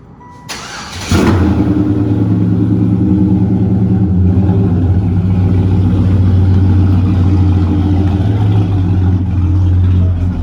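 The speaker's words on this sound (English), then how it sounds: "Hit y'all with this cold start real quick." A 1995 Chevrolet Caprice with a swapped 5.3 LS V8 cold-starts with a brief crank, then catches into a loud, rumbling high idle that holds steady and close for the rest.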